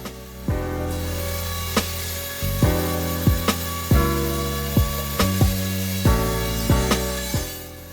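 An orbital sander works over a wooden chair seat with a steady loud buzzing drone, its pitch shifting as it is pressed and moved, with repeated short bumps and scrapes across the surface.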